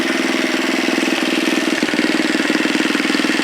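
A Honda Trail 70 restomod motorcycle idles right after starting, its small engine thumping in a fast, even, close-up rhythm that holds steady throughout.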